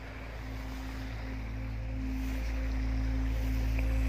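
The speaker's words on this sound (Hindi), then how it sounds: "पानी आ रहा है" Water pours steadily from glacial Batura Lake in Upper Hunza as a constant rushing roar that swells slightly louder toward the end, with no voices.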